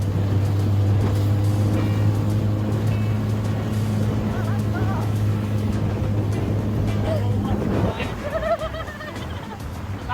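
Small dinghy outboard motor, a quiet four-stroke, running steadily on open water with a low constant hum and water rush, close by, with people talking over it before it eases off.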